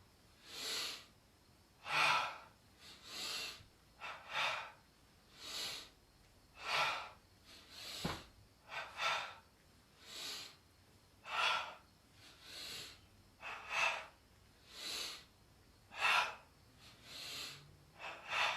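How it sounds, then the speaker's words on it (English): Deep yoga breathing runs in a slow, even rhythm of double inhales and exhales, each breath a close, airy rush of sound repeating about every second or so, with no talking over it. "Double inhale up. Double exhale down."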